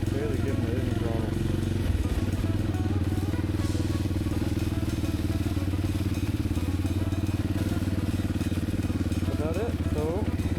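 Honda XR250L motorcycle riding in second gear on light throttle, a loud, close, steady low thumping engine note with a chugging pulse, continuous throughout with wind buffeting.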